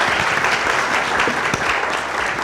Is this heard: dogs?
no